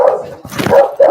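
A dog barks close by, giving a few short, loud woofs with a brief pause between them and no voices over it.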